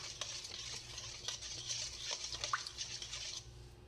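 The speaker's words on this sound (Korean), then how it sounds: "일단 소금 한 스푼을 넣고 소금이 녹을 때까지 잘 섞어줍니다." Salt being stirred into kimchi brine for cabbage-cucumber kimchi gives soft, quick scraping and swishing of a spoon through liquid, close and fairly quiet, stopping near the end.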